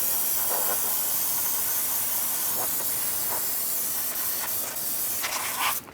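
Steady pressurized hiss of an aerosol brake cleaner spraying rear drum brake parts on a 2000-2007 Ford Taurus, running continuously, close and loud, with a few brief clinks near the end.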